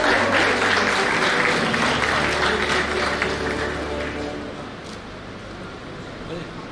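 Audience applause fills an award ceremony hall at a business school graduation, a sustained, dense clapping that holds steady for several seconds before gradually thinning and fading.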